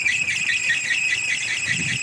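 A kolecer, a wind-driven bamboo propeller toy mounted on a pole, roars and whines steadily in strong wind, a continuous loud droning tone with a faint low rumble beneath and no talking.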